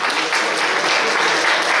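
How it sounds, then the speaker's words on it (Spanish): An audience claps steadily and densely for the ICSES organizing team at a talk event. The applause is close and continuous, with no break. "Un fortísimo aplauso también para el equipo de ICSES"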